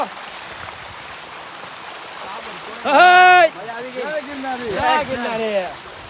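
Steady rush of rainwater running down stone steps on Girnar hill in Gujarat, with light rain throughout and a person talking over it partway through.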